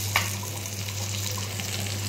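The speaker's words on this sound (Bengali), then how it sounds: "এদিকে এসে মাছের ভাজা হচ্ছে" Fish frying in a pan gives a quiet, steady sizzle with a faint crackle, under a constant low background hum.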